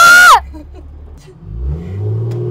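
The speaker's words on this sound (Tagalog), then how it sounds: "Gusto niya galit yung makina." A manual-transmission car engine revs during drifting practice. A brief high vocal cry comes first, then the low engine note climbs steadily in pitch and loudness.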